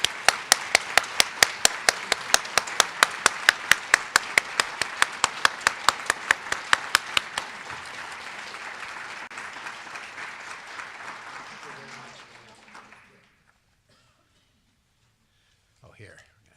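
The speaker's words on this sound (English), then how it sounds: "please help me in giving a warm round of applause to Dr. James J. Heckman as he comes forward" An audience applauding Dr. James J. Heckman at an early childhood investment talk, with a sharp rhythmic clap standing out near the microphone over dense crowd clapping that fades to silence by the end, and a faint voice at the close.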